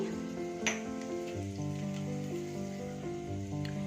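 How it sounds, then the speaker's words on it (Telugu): Thinly sliced garlic fries in hot oil in a pan, giving a steady close sizzle with one brief clink near the start and no voices. "ఆయిల్ హీట్ అయిన తర్వాత ఇవి సన్నగా తరిగి పెట్టుకున్న వెల్లుల్లి రేఖలండి"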